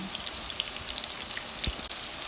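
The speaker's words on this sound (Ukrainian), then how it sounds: "Смажу я їх на соняшниковій олії і на середньому вогні" Constant dense hiss and crackle of fish cutlets frying in sunflower oil over medium heat, with scattered small pops, close and steady throughout.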